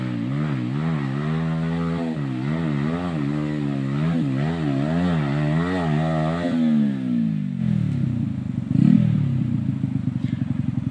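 An off-road trail motorcycle on a muddy dirt track near Cibugel, Sumedang, revs hard and close with repeated surging full-throttle wails, then drops into a rough, clattering lower rumble as the engine strains.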